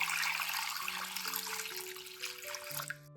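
About 1.5 liters of water pouring into a bowl of eggs with salt and baking soda, a close steady splashing stream over a faint background hum.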